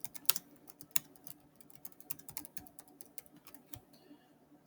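Someone types a command on a Chromebook keyboard: a quick, uneven run of light, close key clicks with a few louder taps, and no speech.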